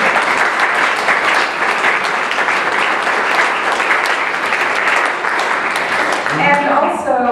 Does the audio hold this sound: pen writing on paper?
no